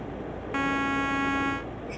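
Standard horn of a Scania truck in a truck simulator game, one steady, loud, buzzy honk lasting about a second over low engine rumble, with no talking.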